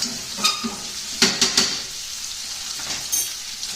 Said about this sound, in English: And those potatoes are browning. The lamb is browning.